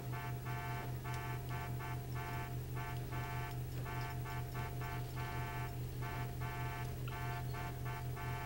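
A car horn in GTA blares without stopping, a held electronic tone that pulses in a rhythmic on-off pattern over the drone of an engine, loud and near.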